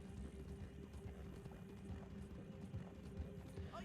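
Horse hooves clip-clop at a quick, steady pace in a Red Dead roleplay video game, faint and low in level under a constant background hum, with no talk.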